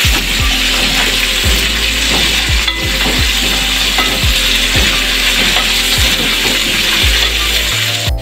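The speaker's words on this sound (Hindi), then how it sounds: "गोभी आप देख सकते हैं फ्राई हो रही है" Cauliflower florets frying with cumin seeds in a pan, a loud continuous sizzle broken by regular scraping strokes of a spatula stirring every half second or so, close up and without speech.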